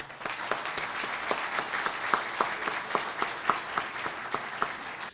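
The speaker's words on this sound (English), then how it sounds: "we want to give them all a round of applause for showing up" An audience at a 2008 Tampa Bay candidate forum applauds the candidates, with individual sharp claps standing out in a loose rhythm over a steady bed of clapping from the crowd.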